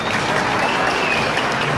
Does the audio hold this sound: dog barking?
no